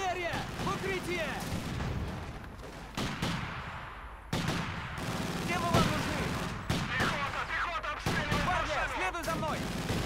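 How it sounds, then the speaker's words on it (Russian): Artillery and gunfire in a Stalingrad mission of Company of Heroes 2: repeated booms and bursts of shooting with a constant rumbling battle bed underneath, while soldiers' voices shout over the noise. "Артиллерия!"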